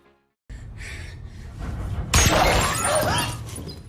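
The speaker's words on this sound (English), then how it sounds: "the mysterious shooter fired again, shattering it." After a quiet start and some muffled movement, a loud, close smash rings out as a gunshot shatters a cell phone at a gas station in a horror movie, followed by scattering debris.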